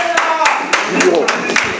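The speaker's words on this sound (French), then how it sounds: "On peut applaudir pour la seule femme" An audience at an election meeting of a community executive committee claps in a sparse, irregular patter of individual hand claps, with a voice talking over the applause throughout.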